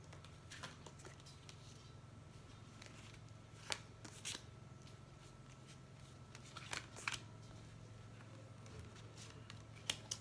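Tarot cards are drawn from a deck with soft, intermittent shuffles, slides and light taps, quiet and close, with no speech.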